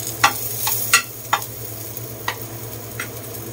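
Mushrooms being sautéed in a pan for homemade embutido: a faint steady sizzle runs underneath, broken by several sharp scraping stirs of a spatula against the pan at irregular intervals.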